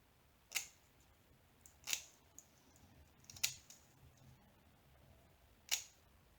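Scissors snip through diamond painting canvas in four sharp, separate cuts spread a second or more apart, close and crisp against a quiet room.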